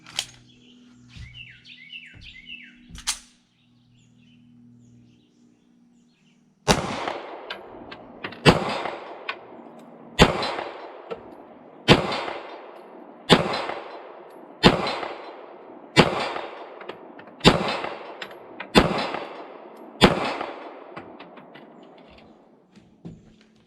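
Birds chirp briefly at the start, then an IWI Jericho 941 pistol fires nine sharp, loud shots at about 35 yards, evenly spaced roughly every two seconds, each followed by a short echo.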